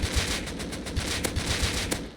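An AK rifle fires in sustained automatic bursts in the video game Rust, a rapid, evenly spaced string of loud, punchy shots with no pauses.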